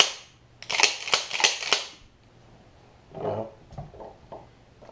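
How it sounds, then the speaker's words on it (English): Metallic clicks and snaps from an old beater shotgun's action as the safety and slide release are worked, a quick burst of sharp close clacks followed by a few softer handling knocks. "Do a function test. Safety on fire, slide release."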